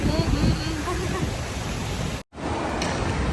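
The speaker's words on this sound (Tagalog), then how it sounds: "ang lakas ng hangin, ang lamig, guys." Strong, cold wind in Tagaytay roars and buffets the microphone in a steady broadband rush, cutting out for a moment before blasting back just as loud.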